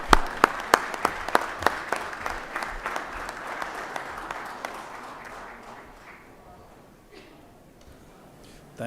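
Applause in a state Senate chamber welcomes Baldwin County youth leadership, with a burst of crisp clapping at the start that gradually thins and fades.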